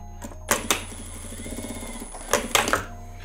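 A sewing machine backstitches back and forth over a fabric strap for a Christmas door hanger, short mechanical bursts of clicking stitches with pauses between, close and fairly loud.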